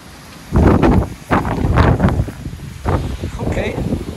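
Gusty wind buffeting the microphone in bursts, with low rumbling swells rising and falling over a few seconds.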